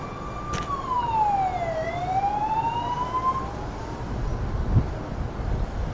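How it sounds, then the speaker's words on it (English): A wailing emergency siren in Israel sweeps down and back up in pitch, sounding at a distance over steady traffic rumble and wind. "Hearing sirens."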